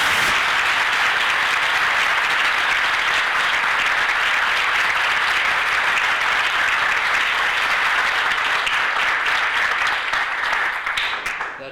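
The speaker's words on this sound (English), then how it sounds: "Jim, you probably will not get more applause than you did just now for your comments" Sustained audience applause fills a hall at the 2003 Ohio High School Mock Trial State Championship, honoring a mock trial supporter named Jim; dense, steady clapping continues loud for about twelve seconds before starting to taper at the end.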